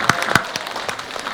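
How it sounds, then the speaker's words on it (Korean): At the close of a county health-promotion forum, a small audience gives brief, sparse applause: a few sharp, distinct claps followed by lighter scattered clapping under faint background voices. "박수로 마치겠습니다."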